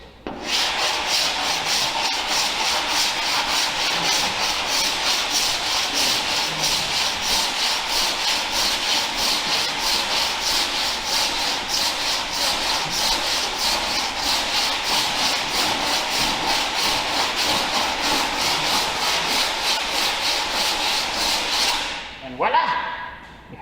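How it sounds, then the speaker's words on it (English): A metal body file rasps steadily across a dented car body panel during an XC GXL restoration, long continuous scraping strokes loud and close for about twenty seconds, then stopping with a brief clatter. "And you can file a lot of dents out, believe it or not."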